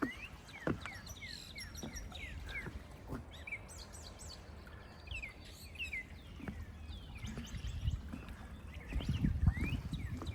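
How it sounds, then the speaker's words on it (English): Several birds chirp and tweet in short bright calls at moderate distance along the Appalachian Trail near Mt Rogers, over faint outdoor background noise with occasional low rustles. "Birds are having a party."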